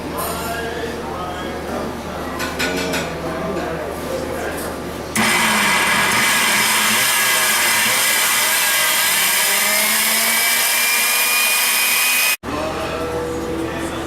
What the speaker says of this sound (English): Now we're going to put this whole thing in a blender and make a lot of noise.